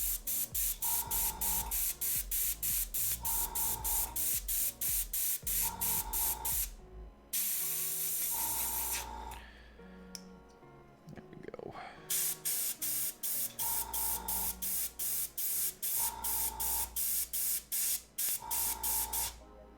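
An airbrush spraying paint onto a miniature dwarven hunter bust hisses steadily in repeated bursts, with brief pauses, while a person talks throughout.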